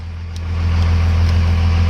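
A Cummins diesel engine idles steadily at 850 RPM, a close, loud, low rumbling drone with a constant throb and no talking.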